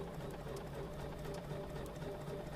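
A sewing machine runs continuously, stitching a scant quarter-inch seam on quilt blocks, its steady motor hum and rapid needle rhythm holding even and close throughout with no talk.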